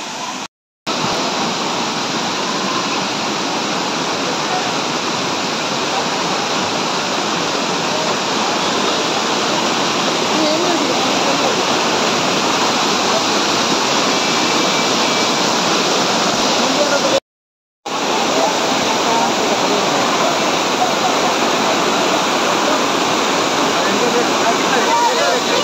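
Amboli Ghat waterfall in the Konkan hills, a loud, dense, continuous roar of falling water heard up close, steady throughout with two brief dropouts.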